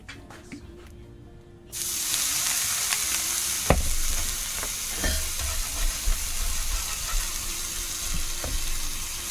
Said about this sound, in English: nice steam blasting the camera there